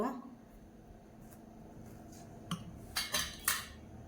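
Cake batter with oil being stirred in a bowl for a honey cake, faint scraping with a few sharp clinks of a utensil against the bowl toward the end.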